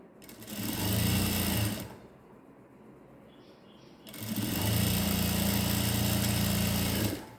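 Sewing machine running a straight stitch through blouse patti lining cloth, a loud steady whirring hum in two bursts of about two and three seconds with a short quiet pause between them.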